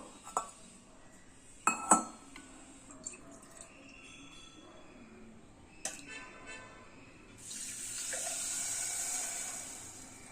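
Water is poured into a pressure cooker while making sweet pongal with milk, a steady splashing pour in the last few seconds after a few sharp clinks of metal and glass nearby.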